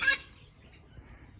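Single short honking call from a goose-like bird in a large aviary, brief and fairly close, then quiet background.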